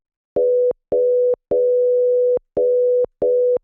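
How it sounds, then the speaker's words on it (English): A clean synthesized sine wave tone, FM-modulated by another sine wave a few octaves down, pulses on and off in five steady bursts, one held longer than the rest, with a hollow, slightly buzzy timbre. "it's sine wave, a little bit of FM from another sine wave, which is like a few octaves down"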